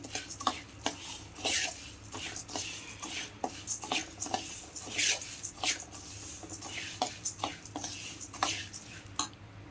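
Sambar powder spices dry roasted in a pan, with steady scraping and clinking of a spoon against metal, a busy rhythm of small taps and rattles at moderate volume throughout.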